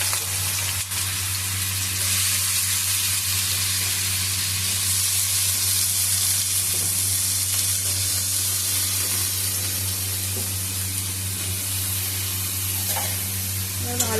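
Cut potatoes frying in mustard oil in a wok, a loud, continuous hissing sizzle filling the whole stretch with a steady low hum beneath and no talking.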